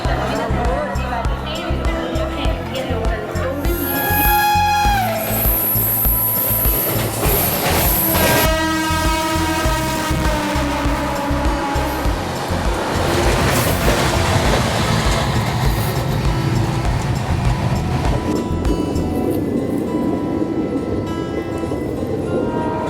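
Mumbai Amravati Superfast Express (12111) running along the tracks, with a loud steady rumble and rhythmic wheel clatter, a long horn blast in the first half, and voices talking over it throughout.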